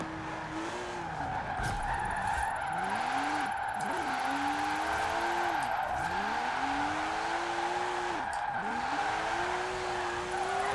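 A super low Volkswagen, maxed out with parts, drifting in Forza Horizon 4, with repeated swooping tire squeals and skids over a steady engine drone, close and continuous.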